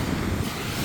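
Wind buffeting a microphone on Nokomis Beach at Casey Key, Florida, a loud continuous low rumble with surf-like wash, brief and with no voices.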